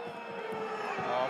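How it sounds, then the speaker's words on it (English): Rugby stadium crowd at a Top 14 match between Toulon and Castres, a dense continuous murmur of many voices rising slightly toward the end, with no distinct cheers. "the crowd very unhappy with what they're seeing at the moment"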